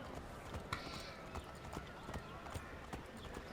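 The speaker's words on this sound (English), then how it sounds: "Cara, eu não lembrava de andar de cavalo." Horse hooves clip-clop at a steady walking rhythm in Assassin's Creed III, moderately close, over a constant low background bed.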